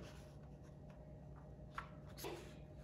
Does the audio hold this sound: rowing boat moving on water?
no